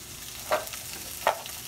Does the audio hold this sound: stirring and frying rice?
yes